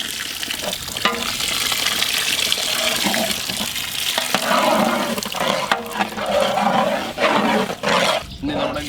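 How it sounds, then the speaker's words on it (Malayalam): Tamarind water poured into a simmering Ayira river fish gravy in a pan, a continuous liquid splash and sizzle with soft stirring clatter, close and fairly loud, no voices. "നമ്മുടെ വാളംപുളി കലക്കിയ വെള്ളം"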